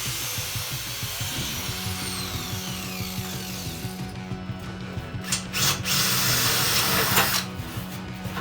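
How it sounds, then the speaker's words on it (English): An angle grinder cuts off welded tabs and grinds down welds on a classic Mini Cooper body panel in a home garage, with a steady whining drone and harsher bursts of grinding near the end. "I'm going to cut off the tabs as they're in the wrong position, grind down the welds"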